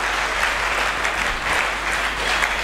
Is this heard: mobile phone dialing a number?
no